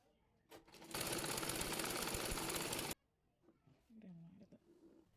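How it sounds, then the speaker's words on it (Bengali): A sewing machine stitching a design along marked lines on salwar pant fabric, a loud continuous run of about two seconds after a brief start, then stopping, followed by faint handling sounds and quiet background noise. "এবার দাগের উপর দিয়ে সেলাই করে নেব"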